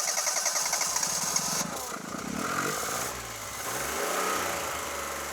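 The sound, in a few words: Firefly engine cranking, trying to start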